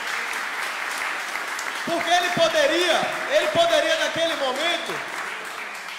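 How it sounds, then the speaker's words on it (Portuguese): Audience members at a city council session in Camaçari give a round of applause, dense clapping throughout while a voice speaks loudly over it in the middle. "Ele merece uma salva de palmas."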